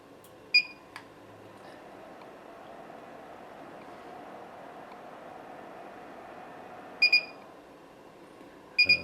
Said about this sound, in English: it beeps at you, and in the automatic mode it just shuts the power supply right off